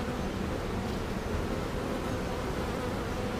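Honeybees buzz steadily and densely at close range during an inspection of a backyard hive's brood frames, a continuous droning swarm with no talking.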